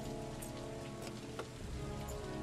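Rain falls steadily in the video game Heavy Rain, a faint, continuous patter on surfaces with a few brief brighter drips and a low background hum, with no talking.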